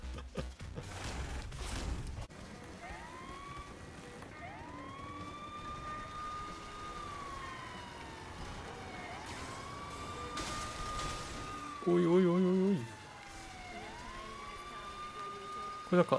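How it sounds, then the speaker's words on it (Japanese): Police car siren in the Saints Row Remastered video game wails in repeated rising and falling sweeps over steady in-game traffic and engine noise, with a brief loud burst near the end. "なんかサイレン鳴らせるんだけど、"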